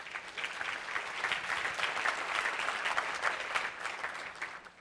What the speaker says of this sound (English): I want to give a quick applause to these guys